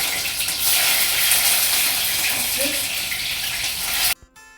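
Sausages frying in oil that has already boiled up, the sausages still wet from refrigeration, giving a steady loud broadband sizzle and spatter that stops abruptly near the end.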